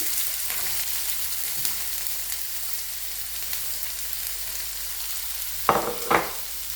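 Chopped onions frying in a hot pan for mutton kothu, giving a steady sizzle throughout, with two short louder stirring scrapes toward the end.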